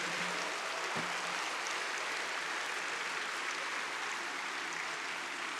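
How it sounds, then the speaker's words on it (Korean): A church congregation at a Christmas service gives sustained, even applause, a thick continuous clapping that holds steady for several seconds with no talk. "다시 한번 들어가실 때까지 큰 박수 부탁드리겠습니다"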